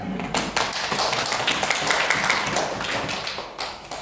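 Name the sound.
audience applause for a professor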